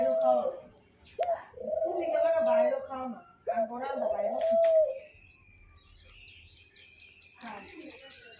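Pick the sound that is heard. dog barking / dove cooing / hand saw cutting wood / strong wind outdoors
dove cooing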